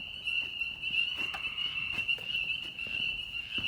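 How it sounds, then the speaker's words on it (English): Frogs croak outdoors at night after heavy rain, a dense continuous chorus with a steady high trilling band and scattered nearer calls, moderately loud throughout and with no talk. "Frogs are singing happily,"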